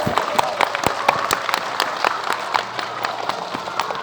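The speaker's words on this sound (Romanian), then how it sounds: "Acum să aplaude cei din partea dreaptă." Audience members seated on the right side at a magic show burst into applause, a dense, steady wash of clapping with a few sharper, louder claps standing out throughout.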